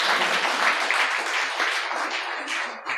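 Friends in an audience at a Hindi poetry recital clap loudly, a dense, continuous burst of applause that carries evenly for a few seconds before dipping slightly at the end.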